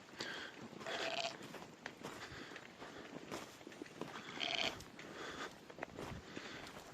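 Sheep bleat a few times over a steady outdoor background, with soft shuffling movement between calls; the animals sound fairly close.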